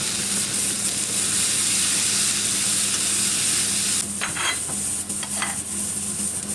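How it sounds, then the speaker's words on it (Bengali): Garlic and tomato fry in a pan, a loud continuous close sizzle with steam hiss, then stirring scrapes break in toward the end; no one speaks. "রসুনটা হালকা ভেজে এখন আমি টমেটো দিয়ে দিচ্ছি। এখন টমেটোটা একটু ভেজে নেব।"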